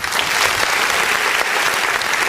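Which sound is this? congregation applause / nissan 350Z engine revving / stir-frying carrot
congregation applause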